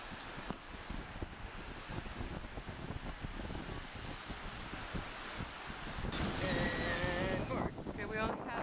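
Ocean surf washes steadily at a Hawaii beach, with wind buffeting the microphone and a faint sound of high-pitched whistles or cries near the end.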